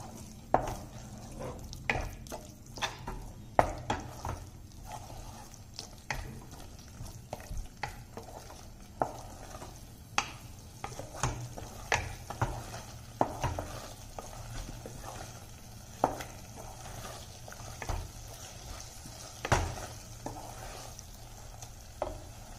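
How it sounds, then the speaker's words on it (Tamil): Curd stirred and sautéed into an onion masala for a meal maker biryani, a quiet, low sizzle broken by regular spatula scrapes and knocks against the pan, with no talk. "நம்ம வச்சுருக்க தயிரை ஆட் பண்ணிடலாம். நல்லா வதக்கி விட்டுடலாம்."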